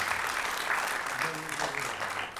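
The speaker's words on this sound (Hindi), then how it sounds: "मैं उनके लिए एक बार आपसे कहूंगा कि जोरदार ताली बजाइए।" Theatre audience clapping loudly after the introduction of a stage play's director, a steady crowd applause with a voice briefly sounding underneath partway through.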